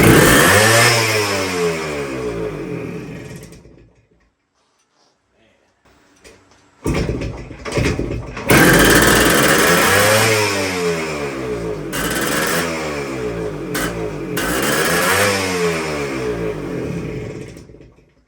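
A crusty 1973 Kawasaki 175 motorcycle engine that sat since the mid-1980s runs with a loud, close, raspy two-stroke buzz. It dies out for a few seconds, sputters back to life, then keeps revving in uneven surges, with talk partly over it.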